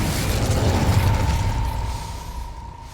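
A fire spell, Incendio, cast in Hogwarts Legacy, rendered as a loud whooshing burst with a crackling roar and a sustained ringing tone that slowly fades over three seconds, with no talk.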